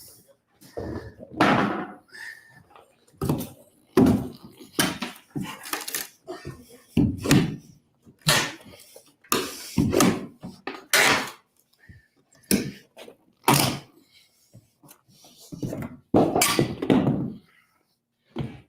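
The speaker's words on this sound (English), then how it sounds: "Now this door is so much easier to remove." Wooden door in a 1974 house under renovation being taken off its frame, with a series of loud knocks, thumps and slams recurring irregularly throughout, close by, with intermittent voices in between.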